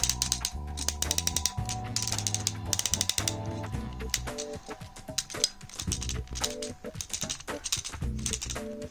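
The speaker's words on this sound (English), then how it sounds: "his hips and knees are on some nice tasty, clicky ratchet joints" Ratchet hip and knee joints on a Transformers MPG Shouki toy being posed, giving rapid runs of sharp, close plastic clicks in bursts with short pauses between them.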